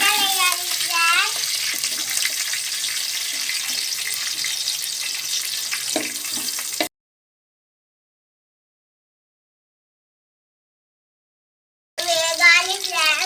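Onions sizzle and crackle in a pan of oil for mutton curry, a steady dense frying hiss for several seconds, broken by a silent gap before the sizzling resumes.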